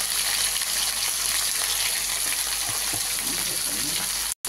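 Green chillies, cumin and coriander powder hiss loudly in a hot pan along with ginger paste, a dense, continuous sizzle close by with faint clinks of stirring beneath it.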